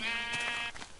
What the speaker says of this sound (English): Sheep, sheep, sheep, sheep, sheep.